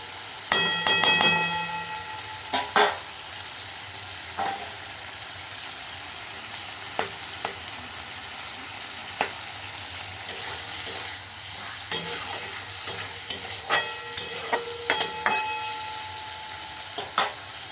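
Potatoes fry in a pan under a constant low sizzle while a utensil stirs and scrapes, with irregular metallic clinks and knocks scattered throughout, close and moderately loud.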